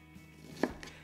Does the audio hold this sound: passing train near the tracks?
no